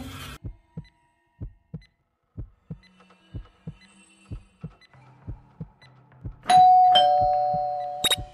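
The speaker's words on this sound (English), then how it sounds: "There goes that stupid bell again." Electronic doorbell chime in the mobile game Scary Teacher 3D, sounding as a bright sustained tone near the end over a steady, evenly spaced pulsing beat.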